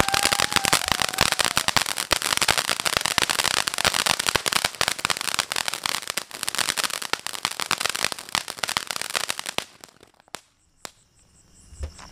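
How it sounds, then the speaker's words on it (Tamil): A string of new-model Sivakasi firecrackers bursts in a loud, dense crackle of rapid pops for about ten seconds. The crackle then stops abruptly, leaving a few isolated bangs. "சோ வெடிச்சு பார்க்கலாம் எப்படி வெடிக்குதுங்கறத"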